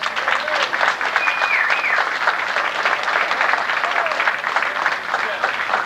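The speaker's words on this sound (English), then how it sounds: "we could give them a round of applause for all their help today" A crowd at a veterans home applauds the VA Medical Center recreation staff with sustained, dense clapping that fills the whole stretch at steady loudness, while a few voices carry faintly underneath.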